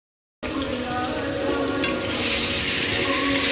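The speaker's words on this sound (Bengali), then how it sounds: "আলু ভাজা চলছে।" Potatoes fry in a pan with a steady, close sizzle that starts abruptly and holds at an even level throughout, with no talking over it.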